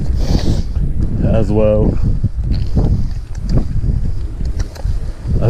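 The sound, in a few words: wind blowing during a fixed gear bike ride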